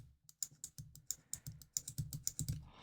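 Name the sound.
Nintendo DSi LL game card slot clicking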